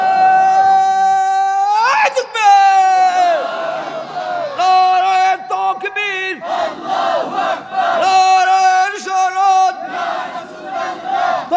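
A large crowd at an outdoor Islamic sermon gathering answers a preacher's call with loud, drawn-out chanted takbir, several swelling waves of many voices shouting in unison, close and loud.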